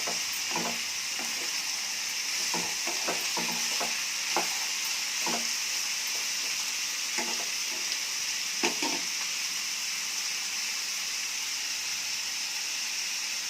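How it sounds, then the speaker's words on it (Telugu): Green peas stirred into saagu frying in a pan: a steady, close sizzle runs throughout, punctuated by scattered scrapes and taps of a spatula, with no talking. "ఇందులోకి ఇప్పుడు పచ్చి బఠానీ, ఇది తొందరగానే వేస్తుంది, ఉడికిపోతుంది. వేసి ఒకసారి ఇట్లా తిప్పుదాము."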